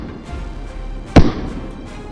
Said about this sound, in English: a furious round of gunfire erupted, relentlessly pursuing each one